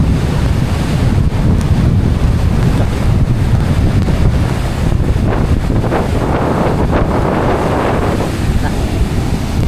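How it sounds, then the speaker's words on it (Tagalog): Strong south wind from a typhoon buffets loudly against the microphone while large waves surge and crash nearby in a continuous roar, on the coast at Dinahican, Infanta, Quezon. "Naglalaki ang alon ngayon dahil ang hangin dito ay timog"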